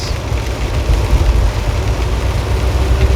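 A Jeep engine idles in park, a steady low rumble running close and continuous throughout with no talk.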